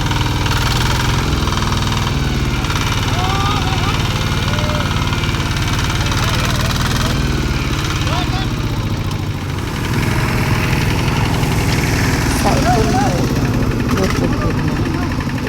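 A farm tractor engine chugs steadily nearby with a loud, continuous low rumble while hauling soil, and voices can be heard faintly over it.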